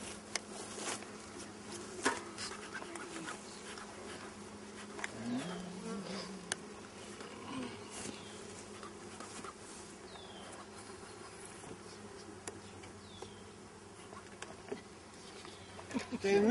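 A steady hum of honey bees surrounds an open hive on a summer day, a dense buzzing swarm close by with individual bees droning past and occasional soft knocks of hive handling.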